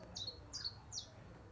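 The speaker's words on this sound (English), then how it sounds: "And then we should have the chiff chaff." Recorded chiffchaff song played back indoors, three short, high two-note chirps spaced evenly and fairly clear over a low room hum, with no voices.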